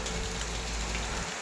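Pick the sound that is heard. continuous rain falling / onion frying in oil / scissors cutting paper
continuous rain falling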